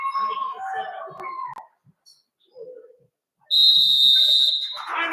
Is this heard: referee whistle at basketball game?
yes